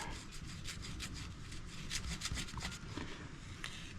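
Compound being rubbed by hand onto the plastic of a Craftsman lawn mower, a close, steady scrubbing and wiping with quick repeated strokes throughout.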